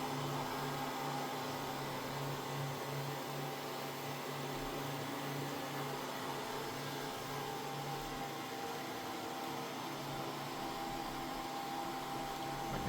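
A Mova Z60 robot vacuum mop runs steadily on a dining room floor, a continuous even motor hum and whir that holds without pause and without speech.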